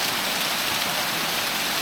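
Close-up rush of falling water at Folly Dolly waterfall, a constant hissing roar, even and unbroken throughout.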